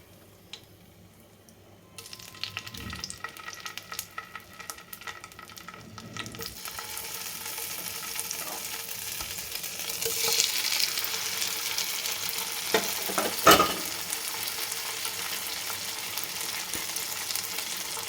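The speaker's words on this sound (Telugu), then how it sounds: "ఇందులో నూనె వేసి దొండకాయ వేద్దాం" Ivy gourd pieces dropped into hot oil, starting quiet then swelling into a steady, bright sizzle and frying hiss, with a few clanks and stirring scrapes from a utensil, close and continuous.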